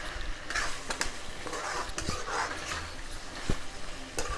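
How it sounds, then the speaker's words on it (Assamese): Duck meat is stirred as it fries in its own rendered fat in a pan for an Assamese duck and pumpkin dish. Steady sizzling runs underneath, with intermittent scraping stirs and a few sharp knocks of the utensil against the pan. "ভালদৰে লৰাই দিওঁ। মাংসৰ পৰা তেল ওলাইছে।"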